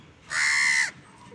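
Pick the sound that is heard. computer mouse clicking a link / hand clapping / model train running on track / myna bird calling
myna bird calling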